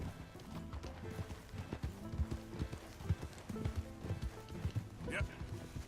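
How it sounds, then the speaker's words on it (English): A horse gallops at a steady pace in Red Dead Redemption 2, rhythmic hoofbeats thudding continuously under game music and someone talking. "Just keep it at a nice gallop"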